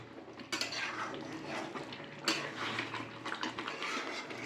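Meat for homemade biryani being sautéed and stirred in a pot, with a spoon scraping and clanking against the metal in repeated close strokes over a low steady background hum.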